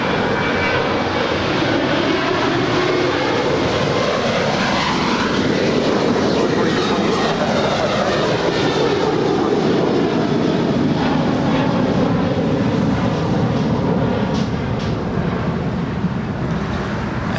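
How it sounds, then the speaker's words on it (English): An Air Canada Airbus A220-300 jet at LAX airport sends out loud, sustained engine roar with a sweeping tonal whine that shifts in pitch as it moves nearby, dominating the scene. "It's Air Canada, Flight 775, coming in from Montreal. It's an A220-300, making our way over to Terminal 6 here on the south side."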